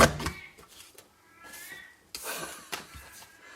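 A female cat in heat yowls and cries in drawn-out, wavering calls, a few separate outbursts at moderate distance, with faint background noise between them.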